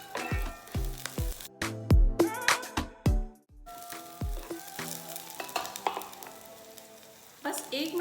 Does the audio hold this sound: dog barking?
no